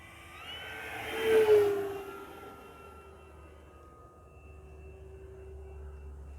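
An FMS F4U Corsair 1700mm RC model warbird flies overhead, its electric motor whine swelling loud as it passes close around the one-second mark, then settling into a steady, more distant drone with a faint ongoing tone.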